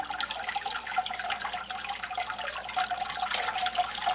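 Water siphoned through a tube pouring into an aquarium tank, a continuous trickling, splashing flow that stays close and fairly quiet, with no voices.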